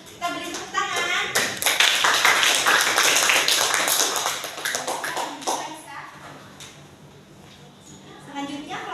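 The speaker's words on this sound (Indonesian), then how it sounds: "Kita beri tepuk tangan." A class of students claps together, a dense burst of applause that swells loud and then thins out, with scattered young voices chattering underneath.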